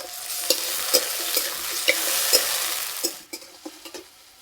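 Tomatoes hit a pan of onions and whole cumin frying in oil, giving a steady loud sizzle with repeated spatula scrapes and clacks as they are stirred, and the frying drops quieter near the end.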